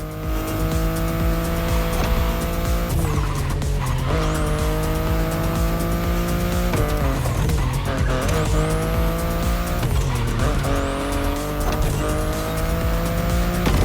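BMW i8 in The Crew Motorfest racing game, engine droning steadily with repeated rising gear pulls and tires squealing through several skids, loud and close with no talk.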